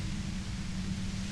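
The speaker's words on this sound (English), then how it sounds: "Your voice trails off into white noise in your head." A steady white noise hiss from the Disco Elysium video game fills the moment without a break, with a low hum underneath and no voices.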